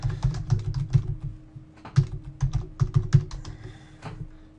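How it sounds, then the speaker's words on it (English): Typing on a computer keyboard while composing an e-mail message, with quick irregular bursts of close, crisp key clicks and short pauses between them, no talking. "And you type that in there"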